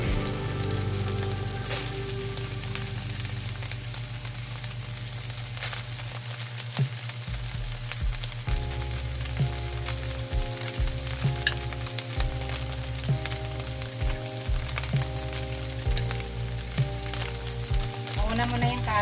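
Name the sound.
beef and carrots frying in a pan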